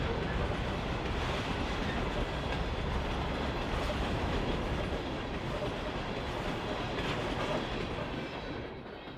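A CN iron ore freight train rolls along rails on the Marquette Iron Range, a steady heavy rumble with rhythmic wheel clatter that fades slightly at the end.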